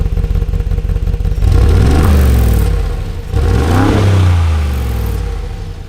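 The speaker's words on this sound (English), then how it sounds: "let me just rev it here because we're in comfort mode" Brabus-tuned G-Wagon in comfort mode revving twice from idle, each throttle blip rising and falling, heard close and loud with no talking.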